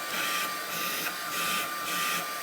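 A Honiture S13 cordless workshop and home vacuum cleaner running on a low power setting, giving a steady whirring hiss with a thin high whine and slight pulsing over a couple of seconds.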